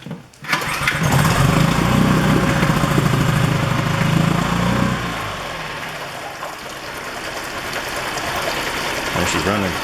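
A small outboard marine motor, fed straight from the main tank and run on choke, is pull-started, catches with a rough sputtering rise, then settles into a steady close buzzing run that picks up slightly toward the end.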